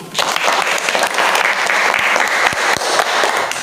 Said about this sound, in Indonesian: kita berikan tepuk tangan untuk Siti